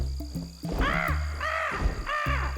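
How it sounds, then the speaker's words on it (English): Three loud, harsh caws come from a crow close by, evenly spaced, following some low thumping sounds. "I think I hear Mama Bird."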